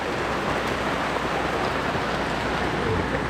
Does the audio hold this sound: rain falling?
yes